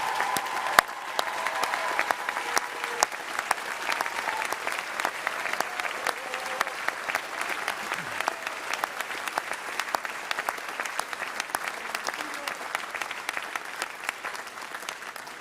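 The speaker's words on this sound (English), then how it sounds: "how about one more howdy round of applause for the class of 2027?" An audience at a medical school white coat ceremony gives the class of 2027 a sustained round of applause, a dense, even wash of clapping that carries on for the whole stretch.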